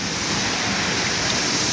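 Waterfall pouring with a heavy volume of water, a dense, steady roar of rushing flow that fills the whole clip, close and loud with no pauses.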